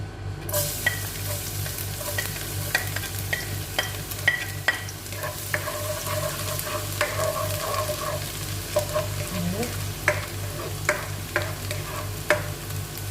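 Garlic and onion sauté in a pan for pinakbet, a continuous close frying sizzle punctuated by frequent scraping stirs and light utensil taps, with a low steady hum underneath and no speech.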